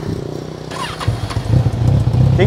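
A Kawasaki Z1000 motorcycle's exhaust revs up close, a steady idle rumble swelling into louder, rising throttle blips over about two seconds.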